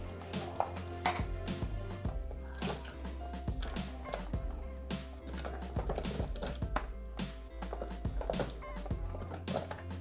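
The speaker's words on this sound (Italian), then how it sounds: "Adesso aggiungiamo le mele codogne" Quince pieces being dropped into a Thermomix TM6 bowl while it runs, a run of repeated thuds and knocks over a steady low motor hum, close and fairly quiet.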